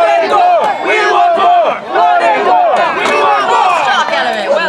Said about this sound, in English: You have to cheer louder than that